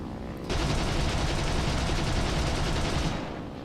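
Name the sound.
7.92 mm machine guns firing in video game War Thunder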